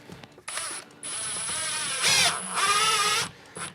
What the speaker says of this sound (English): I'm gonna run a few tests here with my stud finder, or sorry, my joist finder screw here